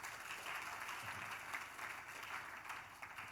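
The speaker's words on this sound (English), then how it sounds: "can we give this class a round of applause?" A class gives a round of applause, a dense, even wash of clapping that holds steady for a few seconds at moderate loudness with no voices over it.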